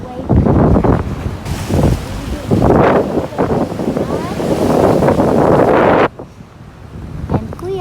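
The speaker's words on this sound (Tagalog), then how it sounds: "the water is coming up when it's the wave" Waves wash up on a shore where the water level is running high, with strong wind buffeting the microphone. The surges rise and fall over several seconds, close and loud, easing near the end.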